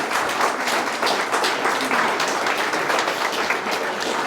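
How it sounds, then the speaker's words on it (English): Applause at a wedding ceremony, a steady crowd of many hands clapping continuously at close range, filling the room without pause. "round of applause"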